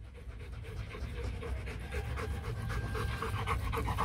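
A Rottweiler pants steadily at close range, a quick rhythmic run of breathy huffs that carries on throughout, with faint background noise.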